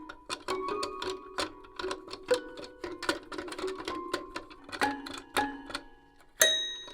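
A toy piano with a strip of felt placed in front of its tines plays a string of short, dull, muted plucked notes in an irregular rhythm, close and fairly quiet, with a slightly louder note near the end.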